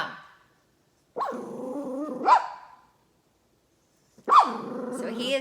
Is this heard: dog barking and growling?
yes